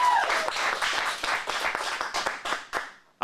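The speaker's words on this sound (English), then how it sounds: "Big round of applause for the Mikey Wipey guy." A live comedy showcase audience breaks into applause after a stand-up set, dense clapping from a modest crowd that thins out and stops within a few seconds.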